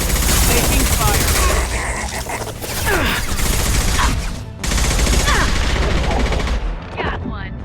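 Sustained rapid gunfire from Mass Effect 2 Legendary Edition combat, dense overlapping shots and bursts that keep going throughout with a brief dip near the middle, loud and close, with a voice occasionally talking over the shooting.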